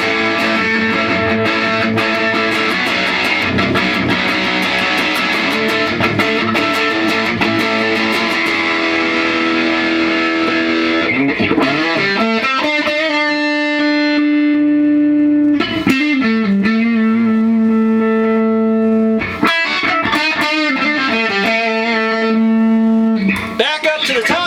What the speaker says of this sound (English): Now let's add some distortion.